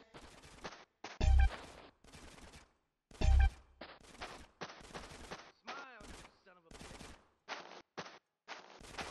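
Gunfire in GTA San Andreas Definitive Edition, with two loud heavy shots and bursts of rapid firing between stretches of shouted dialogue and brief silences.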